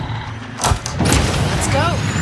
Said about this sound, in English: Spooling the hyperdrive.